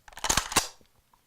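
The trigger of a 1951 Tula SKS rifle is pulled, giving a quick close mechanical click-clack with a metallic rubbing edge, a brief cluster of sharp snaps then silence.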